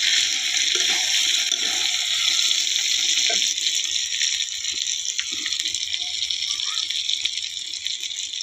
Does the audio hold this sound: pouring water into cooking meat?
yes